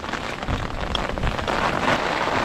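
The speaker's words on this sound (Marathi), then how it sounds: "जोरदार पाऊस आलाय पावसात आपण खातोय" Heavy rain falls steadily in a dense jungle, a close, continuous broadband hiss of drops on leaves and ground with no talk.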